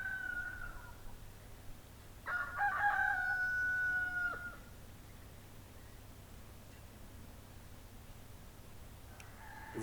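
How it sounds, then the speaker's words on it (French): A hen passing through a garden gives a brief burst of clucking and crowing calls in the middle, fairly faint against a steady background hiss, with no voices. "Nous voyons passer une poule."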